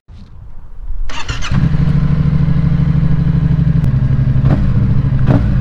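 A Yamaha XSR 700 middleweight classic motorcycle fires up with a cranking clatter, then settles into a loud, close, rough idle with a couple of sharp blips of the throttle, heard alone.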